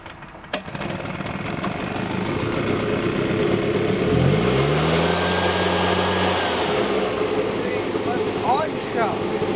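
Car engine on choke during a cold start, revving up with a rising, wavering pitch midway through the clip, sitting under a steady broadband engine roar with background noise.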